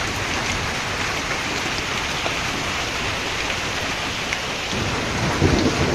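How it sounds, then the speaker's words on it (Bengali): Heavy rain pours down in a village during a thunderstorm, a dense, steady roar of rainfall with low rumbling thunder beneath it that swells slightly near the end. "যে মেঘগুলো রয়ে গেছে আকাশে কত সময় বৃষ্টি হবে বলা কঠিন"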